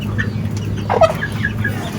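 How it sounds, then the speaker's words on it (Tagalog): Native chickens clucking on a farm, a few short mid-pitched clucks over a steady low hum of background noise, with no talking. "Tapos mga native chicken."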